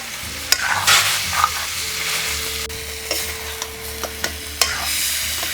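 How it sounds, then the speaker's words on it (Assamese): Vegetables and tomato frying in a pan for a Magh Bihu feast sizzle steadily nearby while a spatula scrapes and taps the pan in repeated sharp strokes, with a faint tone humming underneath. "এতিয়া অলপ সময় ভাজি ল'ম, অলপ সিজাকৈ ভাজি ল'ম"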